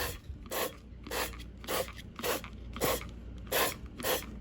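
Repeated short hissing bursts of oil spray onto an air fryer basket, about eight evenly spaced puffs, close and moderately loud with no talking.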